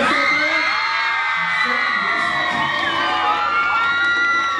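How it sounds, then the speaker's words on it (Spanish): A crowd at a concert in Santa Ana Chiautempan, Tlaxcala cheers, whoops and yells loudly and steadily, with shouts rising over a dense wall of voices. "quiero que le den un aplauso bien fuerte para Claudia Alcaraz"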